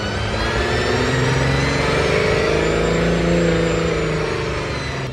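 An Aston Martin Valkyrie supercar idles and creeps through a Las Vegas traffic jam with a steady, loud engine drone that swells slightly in the middle, heard with no talk over it.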